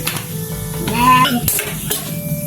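Pork adobo sizzles in a pan while a utensil scrapes and clinks against the metal, the stirring steady and close with brief bright clatters.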